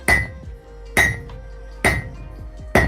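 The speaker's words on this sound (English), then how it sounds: "So this is an 8-pound hammer." An 8-pound hammer strikes hot knife steel on an anvil in a forging challenge, four loud ringing metallic blows at an even, unhurried pace, each followed by a short ring and faint rebound taps.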